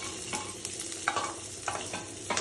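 Cumin, mustard seeds and chana dal fry in an AMC 24 cm hotpan, a soft, close sizzle punctuated by several light scraping stirs of a spoon against the pan.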